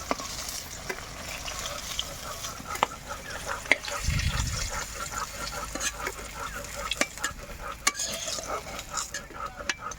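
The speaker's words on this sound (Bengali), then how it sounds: "আমার মাছগুলো ভাজা হয়ে গেছে, এগুলো নামিয়ে নেব। আর এই তেলে বাকি মাছগুলো ভেজে নেব।" Pieces of rohu fish fry in hot oil, giving a continuous close sizzle and crackle with occasional utensil clicks and a brief low thump partway through, no talking.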